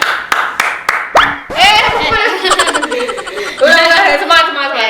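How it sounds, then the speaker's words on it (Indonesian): A few sharp, close hand claps ring out one after another, then a person laughs and talks excitedly over a steady background hum. "Tepuk tangan."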